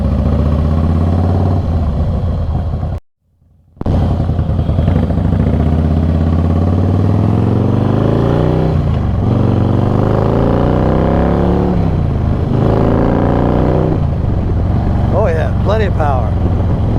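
A 2017 Harley-Davidson Slim S heavyweight cruiser rumbles steadily at riding speed, its low engine drone rising and falling through gear changes, with a brief dropout; someone talks over the engine throughout.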